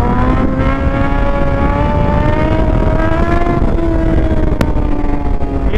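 A motorcycle engine drones close and loud as the rider downshifts to first gear, the pitch wavering and dipping slightly, with steady wind rush underneath.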